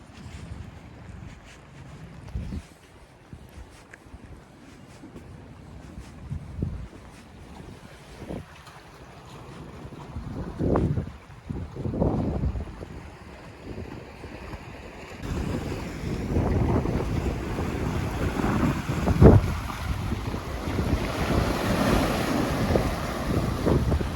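Strong wind roars and buffets the microphone in gusts, growing louder and more constant toward the end, with a rushing water-like wash beneath.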